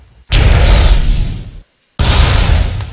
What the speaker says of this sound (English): the fuel rod cannon is definitely one of the more powerful weapons in the mod